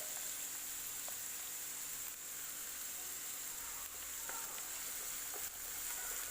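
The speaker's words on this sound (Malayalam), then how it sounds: "അതിലേക്ക് കറിവേപ്പില ചെറുതായി അരിഞ്ഞത് കൂടി ചേർത്ത് കൊടുക്കാം. ഇത് നന്നായിട്ടൊന്ന് വഴറ്റിയെടുക്കണം." Chopped ingredients with curry leaves sauté in a pan, giving a faint, steady sizzle with a few soft clicks of stirring throughout.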